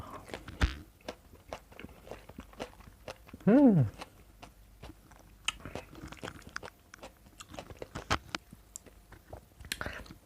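Fresh apricot being chewed up close, with soft irregular bites and wet munching throughout and a brief voiced sound in the middle.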